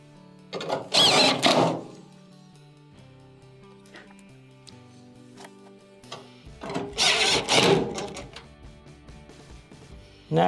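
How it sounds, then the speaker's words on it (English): Two bursts of a power drill driving screws into a Maytag dryer panel, each lasting about a second, separated by quieter mechanical rattling and handling noise. "Reattach your top three quarter inch screws."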